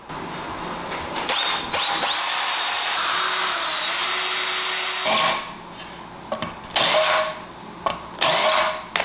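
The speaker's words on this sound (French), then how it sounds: "Percer, mettre mes vis, installer ça là." A power drill drives screws into a wooden bonsai table, with bursts of whining motor and rising pitch as each screw sinks, separated by short pauses and clunks of handling.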